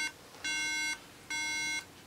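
A laptop beeps after its MagSafe charger is plugged in: two steady, moderately loud electronic tones, each about half a second long, with a short pause between them, over faint background hiss.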